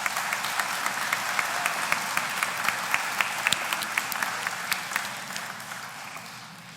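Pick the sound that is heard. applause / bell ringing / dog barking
applause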